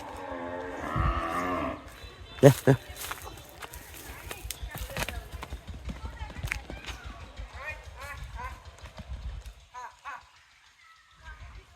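A cow in a cattle shed gives a low, drawn-out moo at the start, followed by people talking, a few sharp knocks and shuffling in the enclosed space.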